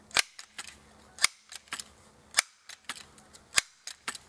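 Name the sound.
pumping a pump-action pellet air gun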